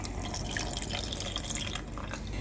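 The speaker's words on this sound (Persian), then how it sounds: "1/3 لیوان آب نارنج بهش اضافه میکنیم." Bitter orange juice poured into a boiling sour sauce for Gilani torsh kabab, a steady close dripping and splashing liquid pour with continuous bubbling underneath, no talk.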